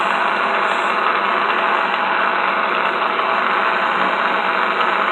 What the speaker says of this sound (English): The auger is actually rotating the arm to dispense ice.